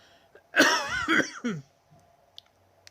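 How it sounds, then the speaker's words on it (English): A single harsh, rasping cough from a person with a lingering cough, close and fairly loud, followed by quiet with faint clicks. "I hate this wicked cough"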